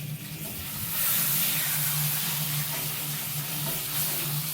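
Roast beef searing in a hot pan, a steady loud sizzle and frying hiss that swells after the first second and holds evenly throughout, with no voices.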